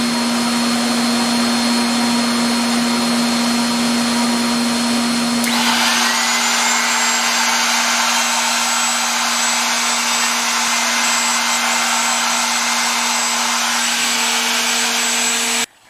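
A router runs with a dust collector vacuum attached, a steady loud whine and rush of air that shifts to a higher, brighter roar partway through and holds until cutting off at the end; no talking.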